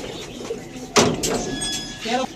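Racing pigeons at a loft coo and flutter, with a sharp wing clap near the middle and soft cooing throughout, while someone talks over the birds.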